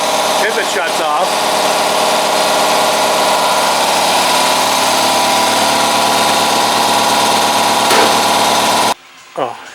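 An air compressor runs with a loud, steady, engine-like drone and vibration that continues before cutting off abruptly near the end.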